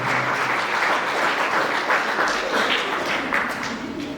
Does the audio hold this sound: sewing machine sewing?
no